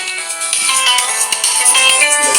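A telephone ringtone plays loudly and steadily for a couple of seconds, a bright repeating electronic melody with no talk over it.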